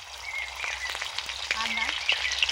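Rice sizzles softly in ghee in a pan, a steady faint hiss with small crackles and occasional stirring sounds, close by and fairly quiet.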